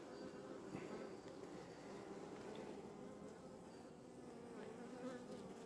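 A honeybee colony from a recently hived swarm, opened for inspection, gives a steady, dense buzzing hum that stays even and close throughout, with a faint voice or two underneath.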